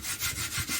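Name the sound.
sanding cement putty on vase mold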